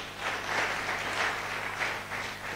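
A church congregation claps for Jesus at a Swahili-language revival service, a steady wash of many hands applauding together, moderately loud and sustained throughout without talk.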